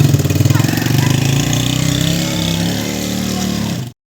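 A motorcycle engine idling and running nearby, a loud, steady low chugging throb that cuts off abruptly near the end.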